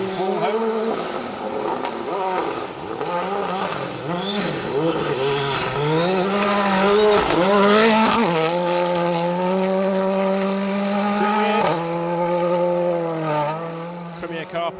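Rally car at speed on a competitive stage, engine note rising and falling through repeated gear changes as it approaches and passes close by, with tire noise and loose gravel scrabbling under the roar.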